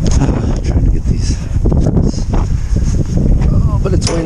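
Gusty wind buffets the microphone in a steady low rumble, with a voice speaking faintly underneath.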